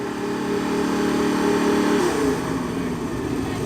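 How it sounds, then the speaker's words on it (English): Classic British racing cars rev for noise checks at Oulton Park circuit, a steady loud engine drone held high, then dropping slightly in pitch as the throttle eases, close by with no talk. "Here they're just doing the noise checks just to make sure they're all within reason."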